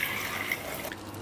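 Chicken stock is poured into a large pot, giving a brief, close liquid splash and trickle.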